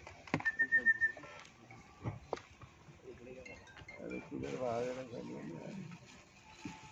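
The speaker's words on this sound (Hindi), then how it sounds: "अरे सीटी बजाने में बिजी है, खरीद के लाया सीटी यार।" A bought whistle is blown at a film trailer and poster launch event, a few short shrill blasts near the start, close and fairly loud, followed by a crowd talking and chattering.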